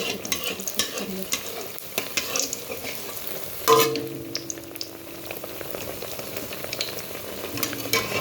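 Food frying in hot oil in a pan, with crackling sizzle and intermittent stirring scrapes, one louder burst midway, close and steady with no talking.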